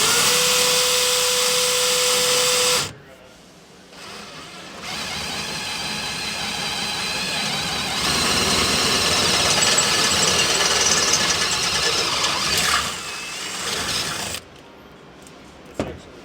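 A power drill bores through aluminum for a through bolt on a folding table carrier, a steady loud whine and grinding that runs for several seconds with pauses and shifts in pitch as the bit cuts.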